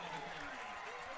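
A high school varsity football crowd at Dobson versus Camelback roars steadily after a 91-yard rushing touchdown, a dense, continuous wash of cheering with a commentator talking over it throughout.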